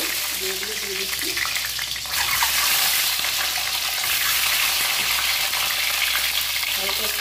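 Eggs fry in hot mustard oil in a wok, giving a steady, dense sizzle that grows louder and fuller partway through and carries on unbroken with no talk.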